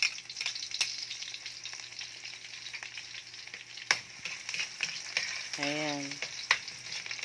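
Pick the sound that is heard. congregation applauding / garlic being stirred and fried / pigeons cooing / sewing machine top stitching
garlic being stirred and fried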